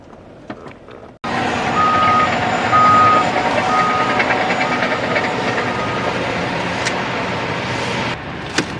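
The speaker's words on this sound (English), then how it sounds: "Looks like they've got the front loader. You guys back up" A front loader backs up with a repeating high reversal beeper sounding in a steady pulse over a loud diesel engine rumble, close by, with a brief voice before the machine starts.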